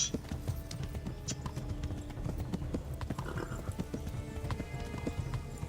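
Steady clip-clop of horse hooves trotting in the video game Kingdom Come Deliverance, a continuous rhythmic beat with a faint whinny and game ambience underneath.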